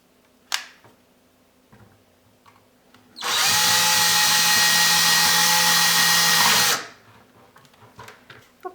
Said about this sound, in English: I got a larger drill bit, and I'm just gonna see if I can make it bigger